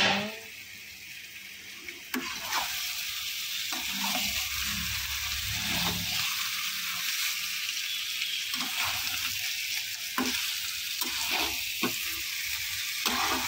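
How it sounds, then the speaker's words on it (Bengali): Chicken pieces dropped into fried masala in a pan for chicken kosha, a close, steady hiss and sizzle with occasional scrapes and knocks of a spoon stirring. "মশলাটা কিন্তু খুব সুন্দর ভাজা হয়ে গেছে, এবার আমরা মাংসটা দিয়ে দেব"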